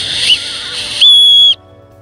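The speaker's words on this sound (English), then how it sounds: "It looks like it has a whistle at the end here." A small whistle built into the end of a survival kit spork gives a breathy tone and then one sharp, shrill, steady blast of about half a second, loud and close.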